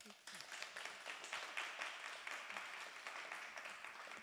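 Soft, distant applause from an audience at an evening talk on light pollution, a sustained wash of clapping that holds steady for a few seconds.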